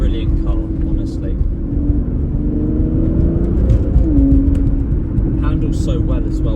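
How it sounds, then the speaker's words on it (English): A 2014 Aston Martin Rapide S saloon with a 5.9-litre V12 rumbles loudly and steadily up close, its deep drone rising in a brief rev, while someone talks over it. "Just give it a quick rip. Sounds absolutely wonderful."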